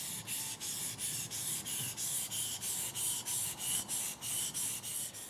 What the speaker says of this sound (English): we're pulling back towards ourselves, remembering to increase our backhand that's holding the knife to engage the bevel onto the stone